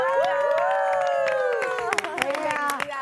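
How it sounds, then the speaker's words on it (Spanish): A television studio audience claps and cheers for an actress's entrance. The applause builds into a thick wash under music that carries on throughout, and a few louder claps and shouts stand out near the end. "Vamos a recibir con un fuerte aplauso a la primera actriz, Laura Zapata."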